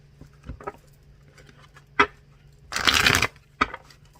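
Tarot cards being shuffled close by: a few soft taps and flicks, then a loud riffling burst in the middle, followed by one last snap.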